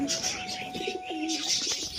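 Pigeons in a pigeon house coo softly in repeated low calls, with brighter chirps and rustling mixed in, close by and without any talk.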